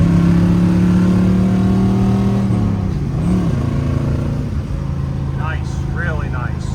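A 1968 Camaro with a 327 engine running strongly while driving, a loud close engine drone that shifts pitch midway, with a person talking over it.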